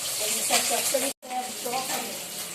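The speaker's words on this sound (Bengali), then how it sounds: "কুমড়ো ভাজা হচ্ছে, কুমড়ো ভাজা, পটল ভাজা" Pumpkin slices fry in a pan, giving a close, steady sizzle that breaks off in a brief cut, then resumes. Voices murmur faintly underneath.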